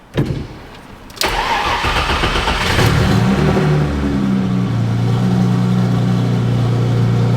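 A rear-wheel-drive Audi S4 with a fault cranks for a second, catches, and settles into a loud, steady idle with a deep throbbing rumble, close by and with no talk over it.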